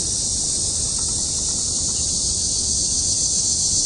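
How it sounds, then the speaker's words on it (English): Dense, steady insect and cricket chirring fills the outdoor night air at a constant loud level, with a low rumble underneath and no voices. "I want to hear those bugs."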